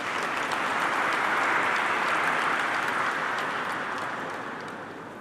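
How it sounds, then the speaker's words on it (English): A conference audience applauds steadily as dignitaries come up onto the dais at a securities symposium, a dense, continuous wash of clapping that swells and then slowly fades. "Can we have a round of applause, please?"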